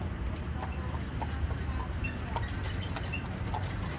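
Steady clip-clop of horses' hooves pulling a Conestoga wagon on a hard road at the Fort Worth Stockyards, Texas, a continuous plodding rhythm with faint outdoor background noise.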